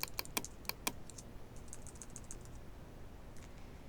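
Keys are pressed on a computer keyboard during Photoshop work: a few sharp, separate clicks at first, then a lighter, quicker run of taps, close and clear in a quiet room.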